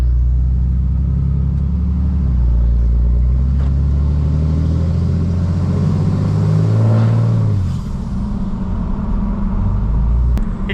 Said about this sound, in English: It definitely seems to be a little bit louder again, and it seems like it spools a little quicker